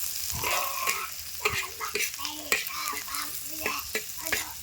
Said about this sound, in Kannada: ಈಗ ಉಳ್ಳಾಗಡ್ಡಿ ಸ್ವಲ್ಪ ಫ್ರೈ ಆಗ್ತೀವಿ